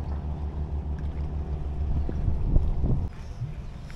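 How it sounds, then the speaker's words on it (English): Steady low engine drone of a boat on a river in Kuching, Sarawak, growing slightly louder and rougher before easing off, with some wind noise. "this boat is coming here now."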